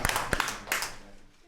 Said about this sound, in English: Should we give her a clap?